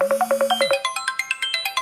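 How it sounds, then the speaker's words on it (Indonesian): A phone ringtone going off during a call: a bright, fast electronic melody of evenly spaced beeping notes climbing in pitch, loud and close, with no voices over it. "Oke, bentar ya, saya ada telepon."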